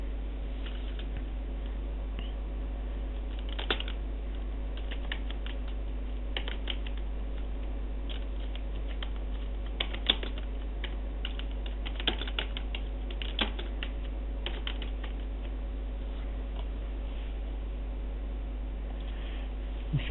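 Typing on a computer keyboard while entering text in MS Word 2013: a long run of irregular, close key clicks and taps over a low steady hum, with no voices.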